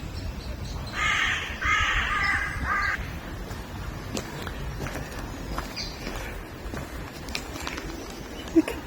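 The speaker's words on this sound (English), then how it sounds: "look at those birds over there" Crows caw in a short burst of several harsh calls near a still river on a nature walk, fairly close, followed by quieter outdoor ambience with faint footsteps.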